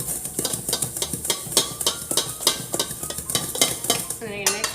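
Cookie dough ingredients being mashed and stirred in a bowl, with rhythmic scraping and tapping strokes of a utensil repeating close up, fairly loud and without talk.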